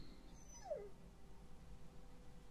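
A dog in The Walking Dead game whimpers once, a single thin falling whine, fairly close and otherwise quiet.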